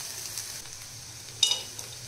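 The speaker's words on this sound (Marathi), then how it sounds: "खोबरं टाकल्यानंतर हे पण छान याच्यामध्ये फ्राय करून घ्यायचे आहे आपल्याला" Chopped onion and dried coconut frying together in a pan for a homemade misal masala, a soft steady sizzle with one brief louder crackle midway, heard close and alone.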